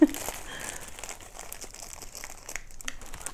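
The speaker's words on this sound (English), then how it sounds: "I love unwrapping things." Paper packaging crinkles and rustles as a new size medium top in Fern green is unwrapped, a steady close crumpling with occasional sharper crackles and brief tearing sounds, without speech.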